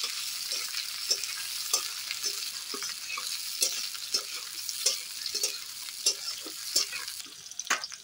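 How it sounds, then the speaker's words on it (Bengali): Chopped onion and tomato frying in a pan, a continuous sizzle broken by regular scraping strokes of a spatula stirring, close and fairly loud, no voices. "দিয়ে দেবো পেঁয়াজ কুচি। দিয়ে দেবো টমেটো কুচি। দিয়ে এটাকে খুব ভালোভাবে একটু ভেজে নেব।"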